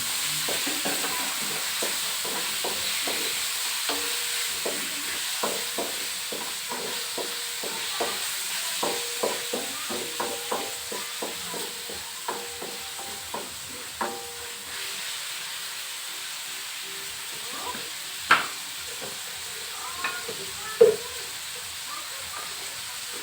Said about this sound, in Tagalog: Maglagay tayo ng pork na hiwa to na pork strip. Then halo lang.